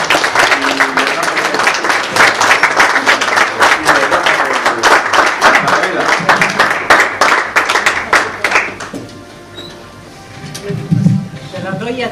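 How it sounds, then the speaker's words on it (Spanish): Dense applause from an audience at a forum presentation in a hall, a steady wash of many hands clapping for about nine seconds before thinning out, with a voice speaking briefly near the end. "Un aplauso para Eulogio, Juana."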